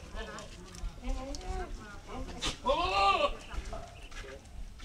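A goat drinking from a dripping tap bleats a couple of times, fairly close, between quiet speech from people nearby.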